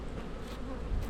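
Honey bees buzz at a beehive in a short, steady, close drone with a dense insect hum and no voices.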